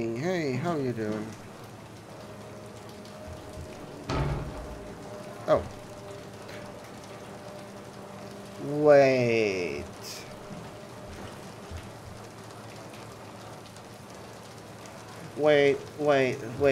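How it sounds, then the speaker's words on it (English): Water from an emergency shower in the video game Soma sprays steadily throughout, with brief thuds and a few short spoken exclamations breaking in over the hiss. "You locked yourself in the emergency shower."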